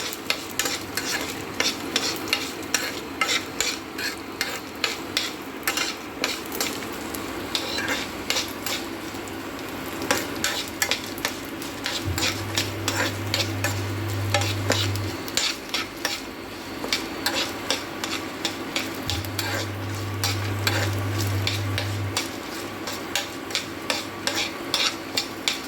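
Ginger, garlic and dried red chillies fry in hot oil, a steady sizzle running throughout with frequent scraping and clattering of a spoon stirring in the pan, no talking.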